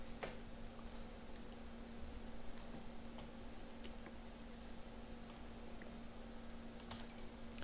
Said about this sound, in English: In Windows, I just need to type this connection string